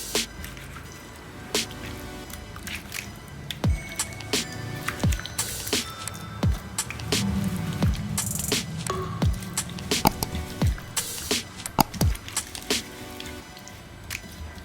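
Masala is worked by hand into pieces of mackerel, a wet squishing and slapping that comes in irregular close bursts of sticky squelches for several seconds.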